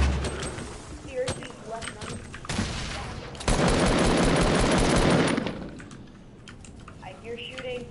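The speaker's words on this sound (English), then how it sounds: "I hear shooting" Rapid gunfire bursts in the online battle royale game Fortnite, dense and loud mid-clip after scattered keyboard-like clicks, with players talking over the action.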